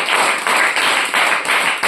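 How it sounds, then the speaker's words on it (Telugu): A church congregation claps hands loudly in response to a preacher, a dense, continuous wash of applause with rhythmic surges, close and full, with no talking over it. "కొట్టండి చప్పట్లు గట్టిగా."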